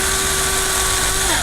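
A power drill whines steadily as it bores a hole in reinforced nylon, one high sustained tone held close and loud for about a second before it winds down, with no speech.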